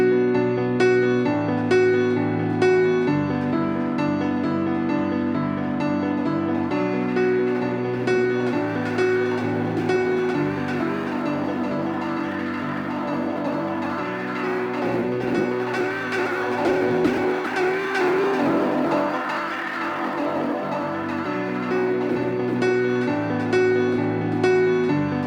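Sustained piano playing with chords and melody, smeared into a wide pad-like wash by a ping-pong stereo delay with filtering and modulated timing, steady and continuous with no voices.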